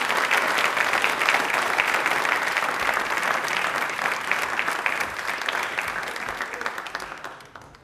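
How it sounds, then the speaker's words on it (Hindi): Loud, sustained applause from a large audience at a Hindi language fortnight event, steady clapping that fades slightly toward the end. "एक बार ज़ोरदार ताली हो जाए"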